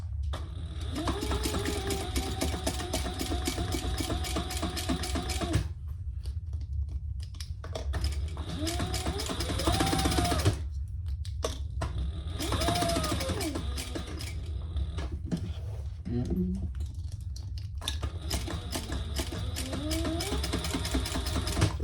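A sewing machine stitches a small leather Barbie wallet, whirring steadily up close in long runs broken by short pauses, with faint talking in places.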